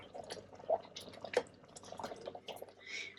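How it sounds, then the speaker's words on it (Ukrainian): Hot homemade cherry sauce poured into jars, heard as soft intermittent splashes and drips, quiet and close, with a faint background hum and no talking. "беремо і наливаємо"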